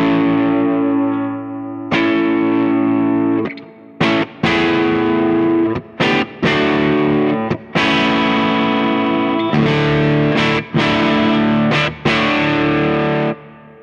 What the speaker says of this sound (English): Nice lush reverb.